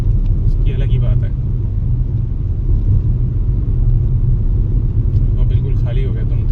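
A Maruti Brezza drives along an empty hill road toward Himachal, giving a steady low engine and road rumble heard from inside the cabin, with faint brief clicks or rattles over the constant drone.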